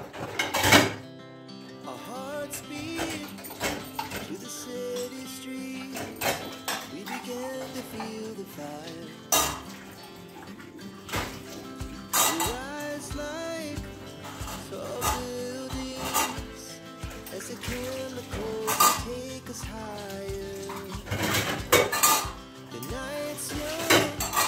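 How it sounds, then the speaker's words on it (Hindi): Dishes, pots and utensils clatter and scrape during washing, with irregular close clinks and knocks throughout, under music and an occasional cough. "तो जी बातों में बर्तन साफ कर लेते हैं"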